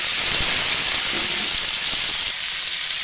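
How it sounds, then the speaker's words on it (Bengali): Small chopped tomatoes fry in hot oil for a paneer dish, a loud continuous hiss and sizzle close by that eases slightly partway through, with no talking. "এবার আমি এতে ছোট দুটো টমেটো কুচি দিয়ে দিলাম"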